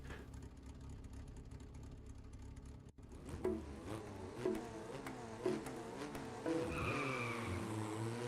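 Race cars in the iRacing Arcade video game, with a steady engine drone and tire squeal rising into repeated throttle surges near the end, mid-level and without talk.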